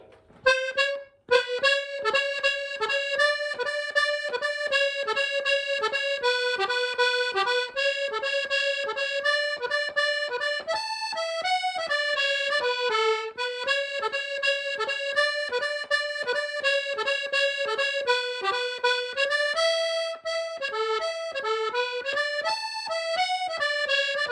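A bagpipe plays the 6/8 pipe march "The Atholl Highlanders" lively, its constant drone under a bright, ornamented chanter melody, loud and close throughout.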